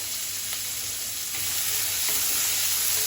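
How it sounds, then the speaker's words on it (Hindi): A large chopped onion fries in a pan with cloves for a dhaba-style sev tamatar curry, an even, loud sizzling hiss with a few faint stirring scrapes, close up and without speech. "अब इसमें ऐड करेंगे 1 बड़ा प्याज जिसको कि मैंने चॉप कर लिया है।"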